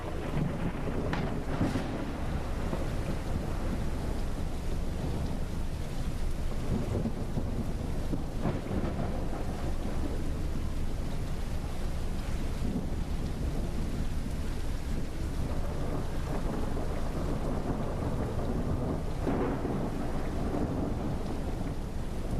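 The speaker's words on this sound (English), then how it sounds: "Don't like this storm." A thunderstorm with steady heavy rain and wind rolls on without a break in the game Ship Simulator, with dull thunder rumbles and a few sharper cracks scattered through it. No voices.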